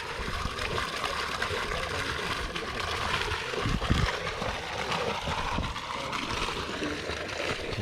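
Water gushing from the two-inch outlet pipe of a solar-powered borehole pump, a steady close rushing and splashing that runs throughout, with a brief louder burst in the middle.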